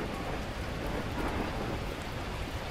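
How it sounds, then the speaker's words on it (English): Torrential rain and rumbling thunder in the video game Beacon Pines, a dense, loud, unbroken downpour roar with deep low rolling underneath, no voices. "At that moment, the heavens opened up, unleashing torrential rain."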